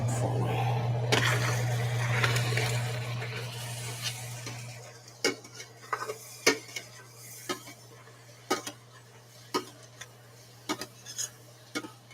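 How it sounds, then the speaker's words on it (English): Ground meat sizzles in a pan while a utensil stirs it, with a steady hiss early on, then a series of sharp scraping clicks against the pan, close and clear. "Stir up the meat some more"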